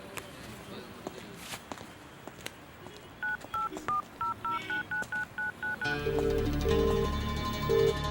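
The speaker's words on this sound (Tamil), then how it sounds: "ஒரு ஃபோன் பண்ணணும்." Telephone keypad tones beep in a quick series of short, evenly spaced presses, followed by a louder repeating ringback tone on the line.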